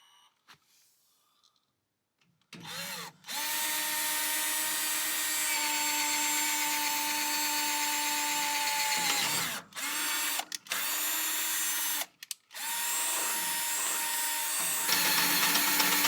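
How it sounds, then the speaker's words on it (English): A power drill bores a hole for a brake line tuck kit, whining loudly and steadily with two short pauses where it briefly stops and restarts. The sound is close, with no talking. "So we just got that hole drilled."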